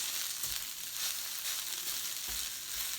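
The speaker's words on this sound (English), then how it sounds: "we're caramelizing the onions" Onions caramelize in a pan with a steady, soft sizzle of frying, with a few faint low knocks of stirring. Moderately quiet and continuous, with no voices.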